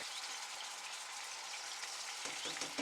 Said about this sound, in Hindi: उसके बाद डालेंगे 2 टीस्पून अदरक का पेस्ट और 3 टीस्पून इसमें हम डालेंगे लहसुन का पेस्ट।